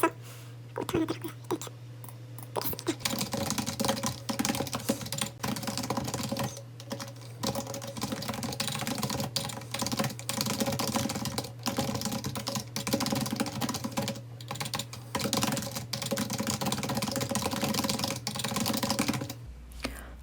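Rapid, steady clicking of a computer keyboard as a reply is typed, close and continuous for about twenty seconds, with soft speech running over it.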